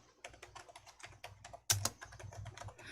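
Fingers type rapidly on a computer keyboard while renaming a spreadsheet sheet tab; a run of soft, close keystrokes ends in one louder key press, and no one speaks.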